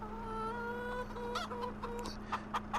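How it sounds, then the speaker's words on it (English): Young chicks in the Farming Simulator 25 video game cluck in short, scattered bursts over a steady humming tone, moderately loud and close. "those are 0-month-old chicks"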